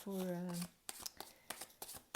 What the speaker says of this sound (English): now I will shuffle